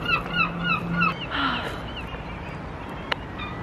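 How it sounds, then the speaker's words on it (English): Seagulls in Brighton give a string of sharp, repeated calls early on, fairly clear against quiet morning street ambience, then fade to scattered faint cries. "Good morning, seagulls."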